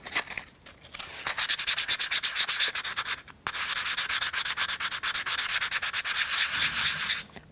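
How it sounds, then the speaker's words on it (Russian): A part for a U-9 Grand Prix car model V8 engine is rubbed with sandpaper in quick, rhythmic back-and-forth strokes, close and crisp, in two long bursts separated by a short pause. "Ее я рекомендую тоже немного затереть наждачной бумагой"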